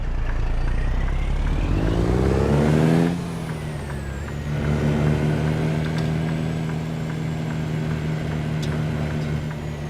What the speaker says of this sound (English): about that engine sound